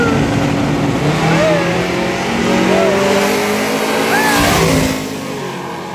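Drag race cars launch and accelerate at a drag strip event in Ennis, Texas, a loud, continuous engine roar with rising rev sweeps and a sharp surge near the end, close by with crowd chatter mixed in.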